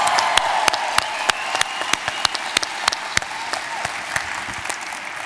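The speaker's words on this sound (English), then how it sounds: "Give yourselves a hand while I think about that." A live audience at a talk with Stephen King bursts into sustained applause, a dense wash of many hands clapping with a few louder individual claps standing out, steady and loud throughout.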